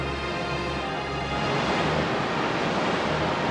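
A Surf attack effect in Pokémon Stadium (Gold and Silver), a loud, crashing whoosh of synthetic wave noise that swells after a second and then holds full and steady.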